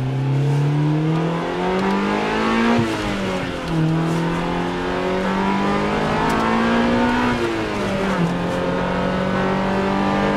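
A Honda Civic with a DOHC VTEC engine revs hard during a performance test, the loud, high-pitched engine note repeatedly climbing and dropping back as the throttle is worked, with no talking over it.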